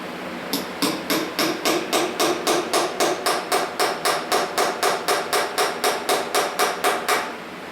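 A hammer strikes a chisel during a forklift engine teardown, about twenty sharp, ringing metallic blows in a steady, even rhythm, loud and close with no talking.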